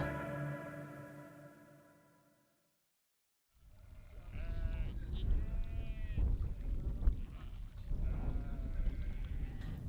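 Sheep bleat at a rural nomad camp in Kyrgyzstan, one long bleat fading out, then after a brief silence several overlapping bleats over an outdoor murmur that may include voices.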